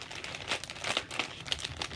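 Small plastic bags crinkling and rustling close by in irregular bursts, with crisp crackles throughout and no talking.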